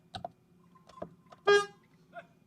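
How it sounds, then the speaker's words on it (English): A single short car horn honk sounds in stalled traffic at a walkway site in Spain, a loud brief toot about midway through, with quiet background and faint voices around it. "I'm going to try and honk a bit."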